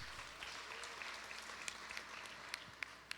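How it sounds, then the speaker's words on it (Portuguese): A congregation claps for the Lord during a religious Torah-portion teaching. The applause is faint and distant, a thin crackling patter with a few sharper individual claps standing out near the end. "E aplaudo o Senhor mais uma vez."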